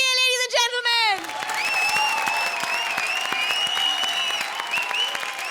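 Studio audience at a comedy show bursting into loud sustained applause and cheering for a guest, beginning right after a short musical sting and carrying on dense and close throughout.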